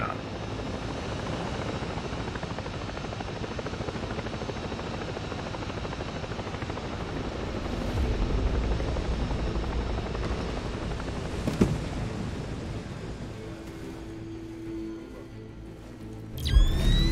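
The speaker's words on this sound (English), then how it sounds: "I might just be ballsy and land the chopper right down there." A helicopter in a shooter video game's extraction mission comes down to land, its steady rotor wash and engine roar filling the scene loudly and continuously, with a brief thump near the end.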